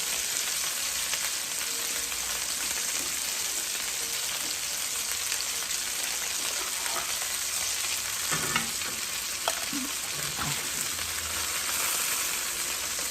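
Jamaican-style teriyaki chicken browns in a frying pan, giving a continuous, even sizzle and crackle with occasional stirring for about thirteen seconds and no talking.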